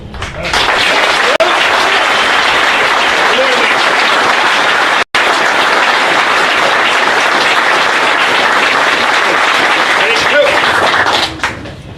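Loud, sustained applause from a large crowd at a US Marine Corps Officer Candidate School graduation, steady for several seconds with a momentary break, then tapering off at the end.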